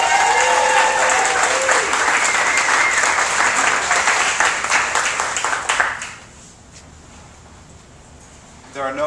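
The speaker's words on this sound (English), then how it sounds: "so let's give him a big round of applause." A storytelling-night audience on stage applauds warmly with a loud, dense roar of clapping for about six seconds, then it fades quickly to near silence before a voice starts to speak at the end.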